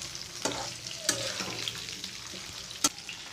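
Raw mango pieces fry slowly in oil for a homemade pickle, a steady soft sizzle with a few sharp scrapes and clinks of a spoon stirring in the pan, with no talking.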